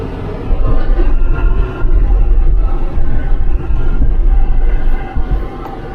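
A car rolling over railway tracks on a road toward the Caucasus Mountains, heard from inside as a loud, heavy rumble with bumpy, uneven thuds as the wheels cross the rails.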